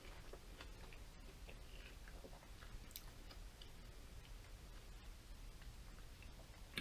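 Close, soft wet chewing with small clicking mouth sounds as someone eats a Whataburger sweet and spicy burger, steady over a faint background hiss, with no talking.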